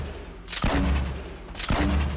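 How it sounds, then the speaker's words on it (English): A grenade launcher in Fortnite fires two loud, booming shots about a second apart, each with a sharp blast and a rumbling tail. "Fire a few grenades at him"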